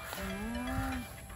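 A water buffalo (kalabaw) on a farm lets out one long, low, steady moo lasting about a second. It is close and clear against faint outdoor background noise, with no talking.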